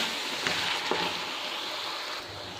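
Bitter gourd with softened onions frying in oil and masala in a pan for a chicken karela dish, giving a steady, close sizzle with no one speaking.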